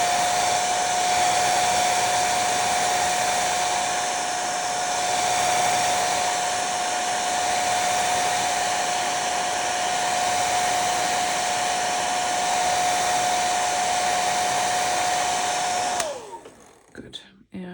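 A hair dryer blows steadily and loudly at close range over a watercolour painting of flowers, holding one even whine for about sixteen seconds before it is switched off and cuts out abruptly.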